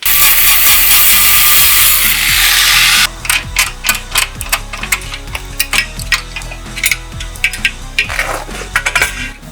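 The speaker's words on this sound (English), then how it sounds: "I'm gonna take a grinder, cut it at the bottom" A grinder cuts the bottom of a bent radiator carrier on a wrecked Chevrolet Corvette C7 Stingray, a loud steady abrasive roar for about three seconds that cuts off abruptly, followed by scattered metallic clanks and rattles.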